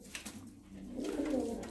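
Pigeon cooing, a soft low throaty coo that swells and rolls on steadily, close by with no talking.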